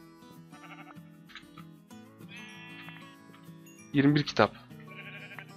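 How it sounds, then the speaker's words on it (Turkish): Sheep in Minecraft give a loud, close bleat partway through, rising over steady background game music while someone talks in Turkish before and after it. "Heh, koyun."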